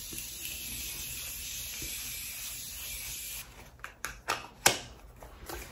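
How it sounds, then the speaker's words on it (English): Morphe Continuous Setting Spray misted onto a face, a steady hiss for about three seconds, then a few short sharp bursts of spray close by, with no talking. "I'm using my Morphe Continuous Setting Spray, which is the absolute best."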